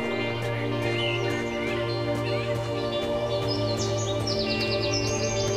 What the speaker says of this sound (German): Das ist das erste Mal, dass man so krass Vögel zwitschern hört in Stalker.